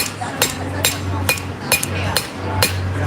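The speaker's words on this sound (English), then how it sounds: "Get a little bit of height out of this with the cross peen." A cross peen hammer forges a small knife blade on an anvil at an outdoor farmers market, striking about seven sharp, ringing blows in a steady rhythm, close and loud over a low background hum.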